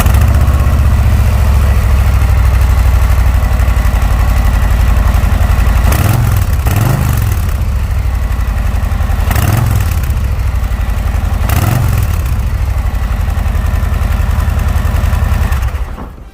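A Harley-Davidson Low Rider S with the 117 V-twin idles loudly and close after a cold start, a deep steady lumpy rumble broken by four short throttle blips spaced a few seconds apart, with no talking.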